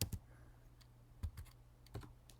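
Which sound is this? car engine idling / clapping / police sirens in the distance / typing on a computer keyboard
typing on a computer keyboard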